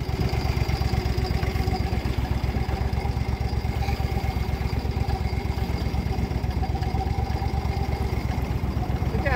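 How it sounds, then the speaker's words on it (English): A Copperhead mud motor on a boat pushing through thick water hyacinth, its engine chugging loudly and steadily with a rapid, even pulsing rhythm, close by and continuous. "This is a freaking awesome motor, dude."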